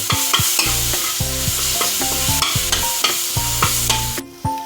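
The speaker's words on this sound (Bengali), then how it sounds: "পেঁয়াজটার পরে আমি এবারে আদা রসুন পেস্টটা দিয়ে দিলাম এটা দিয়েও আমি একটুখানি ভেজে নিয়ে" Ginger garlic paste fries in a pan, with a steady sizzle broken by repeated scraping and clinking strokes of a spoon stirring against the metal, up close and without speech.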